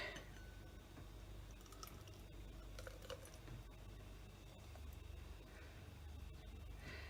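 Beer being poured into a glass during a brewing session, a quiet, steady liquid trickle with faint splashy bursts throughout, close by and without talk.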